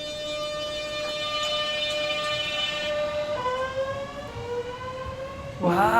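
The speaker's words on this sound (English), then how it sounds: "I'm glad Sam was so impressed by the three-phase traction motor sound." A train's three-phase traction motors whine as it pulls away, a clear tonal hum with stacked harmonics that holds steady and then steps up in pitch, ending in a louder rising surge.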